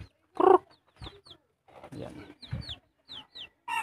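Bantam chickens cluck nearby in short, scattered bursts, mixed with sharp, high chirps and brief pauses between calls.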